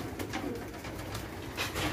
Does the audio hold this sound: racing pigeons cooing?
yes